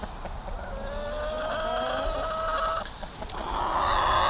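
A pet hen clucks in a series of soft, drawn-out calls over steady outdoor background noise, with a brighter call near the end.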